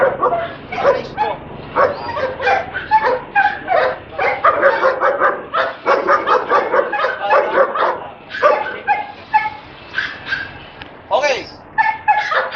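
A protection-trained K9 dog barks, yips and whimpers in rapid repeated bursts at close range while people talk nearby.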